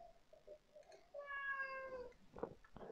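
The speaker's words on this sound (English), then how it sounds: "That's my cat. She wants feeding." A hungry female house cat gives one drawn-out, tonal meow close by in a quiet indoor room, followed by a couple of short, softer sounds.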